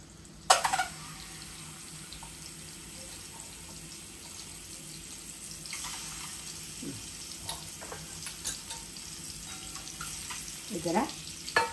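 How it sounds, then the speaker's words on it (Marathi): Boiled eggs fry in hot oil for an egg curry, giving a steady, close sizzle and crackle with occasional clinks and stirring scrapes, and a voice talks briefly over it. "अंडी तेलामध्ये जरा परतून घेऊया"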